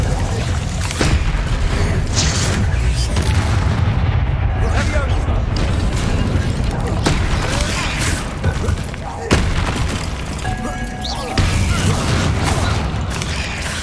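Incendio fire spells and combat in Hogwarts Legacy: repeated loud booms, fiery blasts and sharp impacts crowd together over nearly fourteen seconds, with dense rumbling between hits and voices shouting at times.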